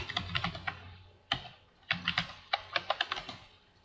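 Typing on a computer keyboard while configuring an SAP NetWeaver system, with irregular bursts of close, crisp key clicks separated by short pauses.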